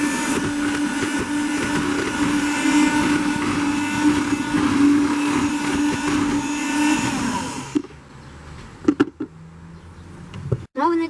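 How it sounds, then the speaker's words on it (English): A SilverCrest SHM 300 C1 electric hand mixer mixing batter, a steady loud whirring motor hum for about eight seconds, then stopping, followed by a few clicks and knocks. "So now we need to close it and with our mixer to mix it."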